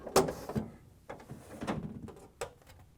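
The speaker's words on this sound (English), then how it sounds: "Open the freezer door, pull out the chiller shelf," Chiller shelf being slid out of a GE refrigerator freezer, a few plastic scrapes and knocks spread over a few seconds, close and fairly quiet.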